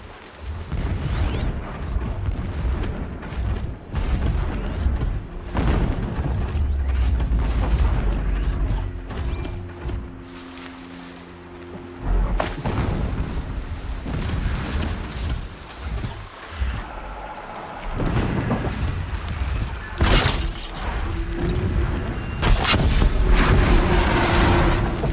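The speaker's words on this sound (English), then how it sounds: "Explosions in the distance." Distant explosions rumble in the video game Horizon Zero Dawn: deep, irregular booms and crackling blasts with mechanical clanks over a low ambient bed, with no talk.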